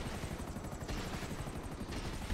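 Helicopter rotor chop in a video game shooter, a steady rhythmic thumping close and loud throughout, with faint bursts that may be gunfire underneath.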